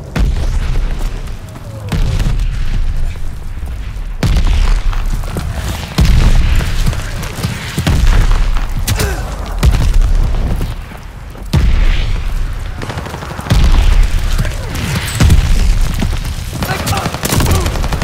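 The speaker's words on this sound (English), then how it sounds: "They're sending mortar shells." Mortar shells exploding in the World War II shooter Call of Duty: Vanguard, a repeated series of heavy booms spaced a couple of seconds apart, mixed with gunfire and battle noise, with voices calling out at times.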